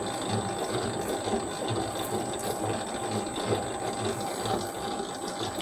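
A Famag spiral stand mixer with a dough hook kneads about six pounds of homemade white bread dough, giving a steady mechanical whir with faint rhythmic ticking, moderately quiet and continuous.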